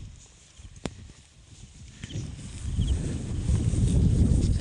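Heavy hooves of a water buffalo plod slowly over the ground, the steps growing louder and denser as it walks close by, with no voices.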